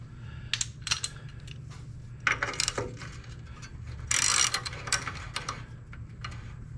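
A ratchet tightens tie rod nuts on a truck in several quick bursts of close, sharp clicking, with short pauses between the strokes and no talking.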